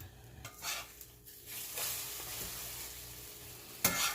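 Jumbo eggs cooking well done in a pan at home, with a steady soft sizzle under intermittent stirring and utensil scrapes, plus a sharper clatter near the end; no talking.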